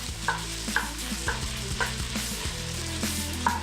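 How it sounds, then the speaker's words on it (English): Tomato paste being stirred into vegetables frying in oil in a pot: a steady close sizzle with a regular series of spoon scrapes and clacks against the pot, about one every half second, with no voices. "we're gonna add a scoop to our pot and stir it up"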